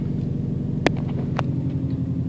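A 2007 Subaru STI with a manual gearbox reversing slowly in a backyard by a fence, giving a steady low engine rumble throughout with a couple of brief sharp clicks, close and loud.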